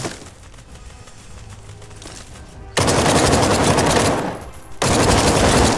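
Automatic gunfire in the video game The Front: long, dense bursts of rapid shots, loud and close, with a brief pause between two sustained volleys after a quieter stretch of background game sound.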